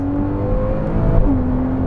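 Flat-six car engine with a Porsche-like character revving inside the cabin, a steady loud drone with tonal harmonics that dip and rise again as the revs change.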